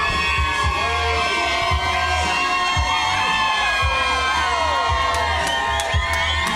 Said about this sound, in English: turn around for this crowd and just put your hands up and make them go wild for everybody